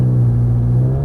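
A Ferrari F430 engine on a race track drones loudly and steadily up close, a deep sustained tone holding through the short stretch without a clear shift break.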